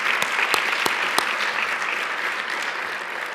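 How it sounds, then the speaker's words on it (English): An audience at an awards banquet applauds steadily, a dense wash of many hands clapping throughout. "a round of applause for Sophia"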